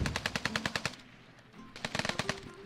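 Automatic gunfire in a military video game rattles out in two rapid bursts of evenly spaced, punchy shots, close and clear, with a brief gap between them.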